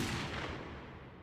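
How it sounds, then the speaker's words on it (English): Gunshot-like blast from a played video, a loud broadband burst with a long fading rumbling tail, heard alone. "Oh, gunshot."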